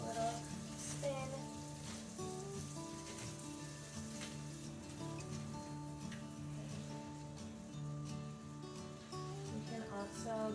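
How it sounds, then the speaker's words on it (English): Donuts frying in hot oil with a steady, close crackling sizzle, carrying on beneath soft background music throughout. "drop some more donuts right in the oil"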